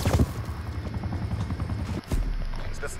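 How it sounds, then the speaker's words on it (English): A helicopter in a first-person shooter video game whirs with a steady low rotor thump, fairly quiet under game sounds and a brief dropout near the end, then resumes. "I missed the fucking helicopter!"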